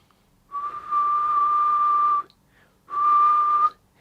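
A clear, steady whistled tone held for nearly two seconds, then a shorter second whistle after a brief pause, close and alone.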